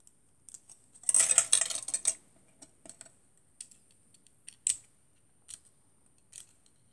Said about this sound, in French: c'est des coupes tellement fines qu'il faut faire attention quand on les détache, de ne pas les couper.